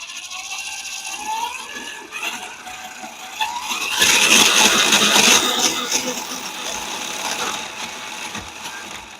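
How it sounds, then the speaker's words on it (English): Electric motor of an FMS RocHobby Atlas RC crawler after a motor swap, running as a steady mechanical whir and ratcheting drone that swells louder midway, with a voice talking over it. "And the motor is working."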